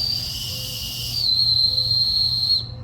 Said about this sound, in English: I've got the OWhistle 2 in titanium here with the compass on it.